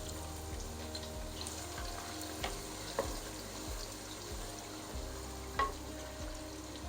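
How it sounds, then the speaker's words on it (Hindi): Onions sizzle steadily in hot oil for aloo gosht, a dense close crackle throughout with a few sharper pops and clinks of a utensil. "ऑयल गर्म हो गया, प्याज़ों को डाल देंगे।"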